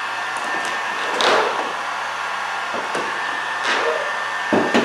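A heat gun running on high blows a steady, even airflow hiss while softening carbon fiber vinyl wrap ahead of removal, with a few brief handling noises breaking in but no voices.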